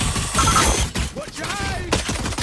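Gunfire from a shotgun in the Valorant video game, sharp blasts over busy in-game combat noise, with a few brief voices underneath.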